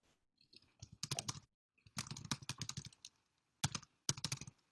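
Keys on a computer keyboard are typed close by in quick bursts of rapid clicks, separated by short pauses, with no talking.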